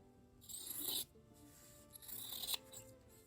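Rotary cutter or blade trimming fabric half-square triangles for a quilt block, two close, soft rasping strokes, each lasting about half a second, separated by a brief pause.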